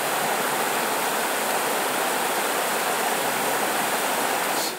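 A stream crossing Iceland's Laugavegur hiking trail rushes in a dense, steady hiss, close and unbroken, with no voices.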